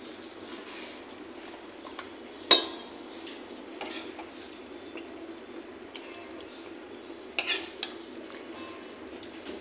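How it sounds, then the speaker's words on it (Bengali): A spoon clinks against a pot and bowl while potato, papaya and soybean curry is served, a few sharp metallic knocks and soft scrapes over quiet background hiss. "অফ করে এই বাটিতে আমি সার্ভ করে নেব"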